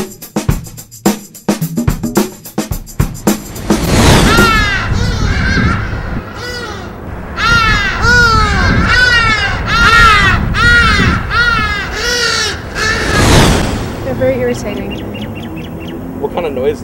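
Hadeda ibises calling at sunrise: after several sharp clicks, a loud, raucous series of harsh, honking caws rings out in overlapping bursts, close and piercing, pausing briefly before another strident round of calls.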